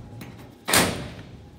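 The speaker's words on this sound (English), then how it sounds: "We're gonna go into that door." A door on a BBQ concession trailer opens with a single loud thud midway through, its echo fading out afterward.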